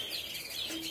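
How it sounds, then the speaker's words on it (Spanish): Caged birds chirp in short, high, faint tweets, a brief burst of light twittering close by. "aquí estoy poniéndole bañera a los pájaros"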